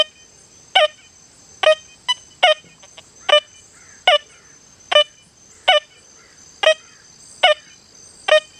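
A Minelab Manticore metal detector set to speed 2 gives short, sharp tones at a steady rhythm of about one per second, about ten in all, crisp and close over a quiet hissy background.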